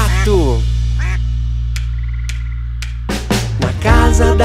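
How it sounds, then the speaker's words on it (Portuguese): A duck quacks in a children's animal-sound song, a few nasal quacks over a sustained musical backing with a voice chiming in. "Esse é o som do pato!"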